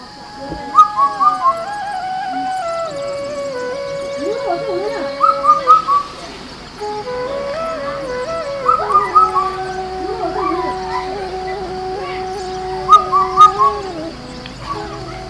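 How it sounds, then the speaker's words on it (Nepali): An Indian cuckoo (kafal pakyo bird) in Nepal gives a repeated call, sounding in short clustered phrases every few seconds against faint background whistles and a low hum. "काफल पाकै चरो हो यो।"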